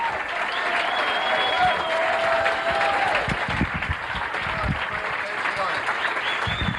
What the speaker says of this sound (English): Nice round of applause, Frank Prinzi